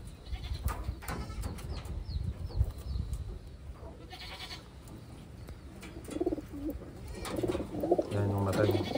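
Pigeons coo softly at close range amid rustling and shuffling in a loft of auction racing birds, with a voice speaking quietly under the calls.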